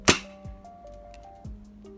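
A Dart Zone Ranger foam dart blaster fires a double shot, a sharp snap followed by two quick springy thunks about a second apart, close and fairly loud against a quiet room.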